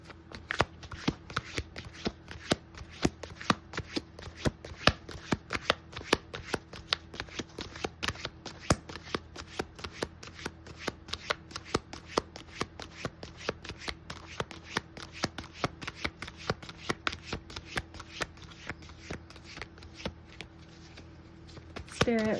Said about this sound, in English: I'm going to take one more card.